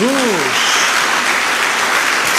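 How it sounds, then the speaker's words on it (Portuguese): A church congregation applauds for Jesus in a steady, dense round of clapping, with a brief voice call over the start before the clapping carries on alone. "Dá uma salva de palmas a Jesus."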